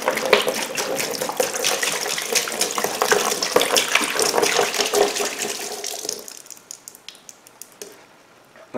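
Evapo-Rust rust remover is poured into a 32-ounce bottle to fill it, a steady loud gush of liquid running for several seconds before tapering off near the end.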